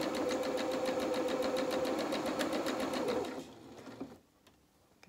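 A sewing machine runs steadily over the front seam of lace knickers, a close, even rattling whir for about three seconds before it slows and stops, leaving faint clicks.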